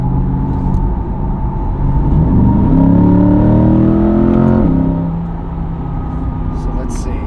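A Chevrolet C8 Corvette accelerating in sport mode, its engine rising in pitch and loudness from inside the cabin, then easing off after a few seconds.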